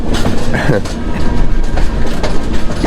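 Aboard the Falaknuma SF Express 12703 from Howrah to Secunderabad, slowing through a deep curve: a loud, steady interior rumble of wheels and carriage with rhythmic clatter, and a voice talking over it.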